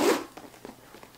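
A zipper on the back pocket of a diaper clutch bag is pulled, giving a short rasping burst followed by a few lighter ticking pulls, close and clear with no talk.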